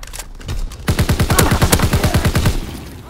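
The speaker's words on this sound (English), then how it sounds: "Fighter aircraft ready for strafing run!" Rapid automatic gunfire from a fighter aircraft's strafing run in a World War II video game set in the Ardennes Forest, a loud rhythmic burst of about a dozen shots lasting nearly two seconds, no voices.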